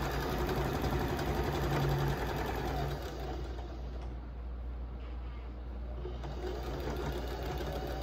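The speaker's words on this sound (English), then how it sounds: "take it over to the sewing machine and sew your 1/4-inch seam" A sewing machine stitches a 1/4-inch quilting seam, running steadily, its rapid mechanical stitching hum continuous and close, slowing slightly partway through.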